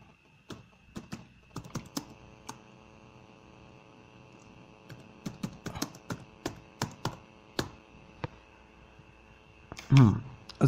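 Fingers type a title on a computer keyboard in bursts of quick, irregular clicks with pauses between words, over a faint steady electrical hum, ending in a louder thump.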